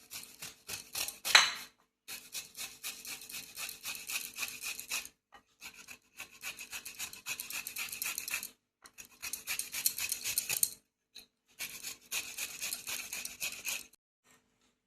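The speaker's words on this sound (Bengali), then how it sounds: "এবার গ্রেটারের সাহায্যে আমি আমটা গ্রেট করে" Peeled mango rubbed against a kitchen grater in steady rasping strokes, loud and close, arriving in several bursts separated by brief pauses.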